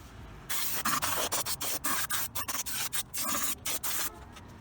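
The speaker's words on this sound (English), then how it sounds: "I'm just going to take a little brake cleaner to try and remove some of the oils and greases" Aerosol brake cleaner sprayed in short bursts onto an old, grimy valve cover from a 1998 Acura Integra, giving a close, loud run of hissing blasts with brief gaps between them.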